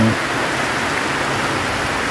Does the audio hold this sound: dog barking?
no